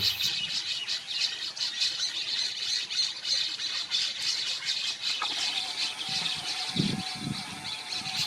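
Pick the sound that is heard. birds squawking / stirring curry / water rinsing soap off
birds squawking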